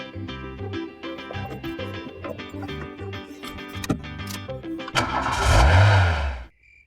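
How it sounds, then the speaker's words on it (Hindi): A car engine turns over and then revs up in a swelling roar near the end, rising out of background music. "हम गाड़ी तेज चलाते हैं।"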